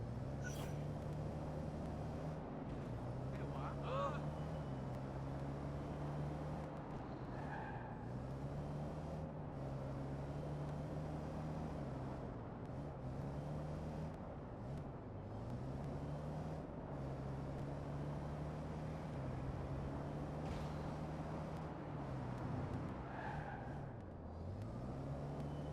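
A car drives around a city in a Ubisoft video game, a steady engine drone and road rumble that rises and falls with gear changes over a long stretch, with occasional faint traffic sounds.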